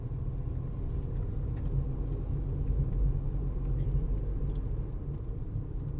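A vehicle on the Bhuibawada ghat road in dense fog and heavy rain gives off a continuous low engine rumble, steady and close throughout, with no distinct pass-by peak.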